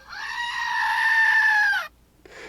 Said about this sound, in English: the old screaming goat